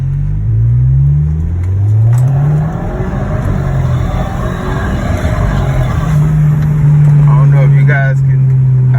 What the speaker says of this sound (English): I'm just gonna press the accelerator